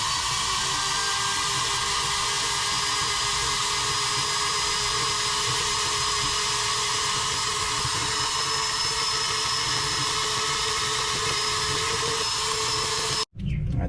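A rotary tool with an abrasive stone tip grinds the rubber of a gashed skid steer tire during a patch repair. A loud, steady, high whining grind runs unbroken and cuts off abruptly just before the end.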